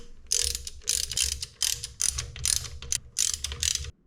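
A ratchet wrench snugging bolts during a valve adjustment on a Honda CRF150R dirt bike, several short bursts of fast clicking, close and clear with brief pauses between strokes.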